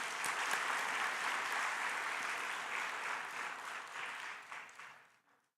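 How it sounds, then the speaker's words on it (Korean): A church congregation at a Christmas thanksgiving service claps together in dense, sustained applause that holds steady and then tapers off to silence near the end. "서로 감사 격려 박수 한번 쳐드리겠습니다"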